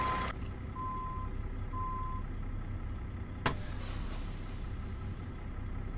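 In American Truck Simulator, a truck drops off its trailer: reversing beeps sound early over a steady low engine idle, with a single sharp clunk or air release near the middle.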